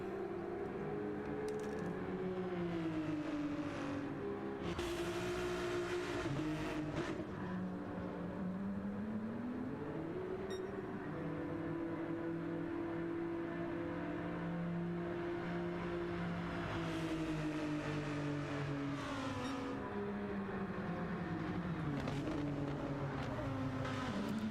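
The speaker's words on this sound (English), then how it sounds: "We're just gonna let the sound of those engines do the talking for us until something really happens." GT race car engines in a racing video game, a continuous loud droning roar with rising and falling pitch as cars accelerate and shift, sustained throughout.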